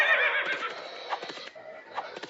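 The Horse King monster in the video game Legend of the King lets out a short, loud whinny that fades into faint hoof-like clops, all within about two seconds.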